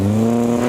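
A race car engine holds a high, steady rev at the moment of a clutch drop, loud and droning with a strong tonal buzz, in a brief burst.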